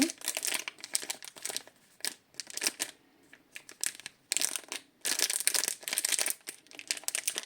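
Thick plastic packet holding a makeup sponge is handled up close, producing repeated bursts of sharp crinkling and crushing separated by brief quiet gaps, with no talking.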